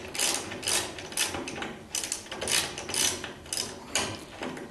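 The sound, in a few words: ratchet wrench tightening sway bar bolts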